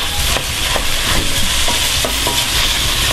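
Beef mince being stirred and browned in a pan for spaghetti sauce, with a steady loud sizzle and repeated scraping strokes of a spoon working the meat around, no talking.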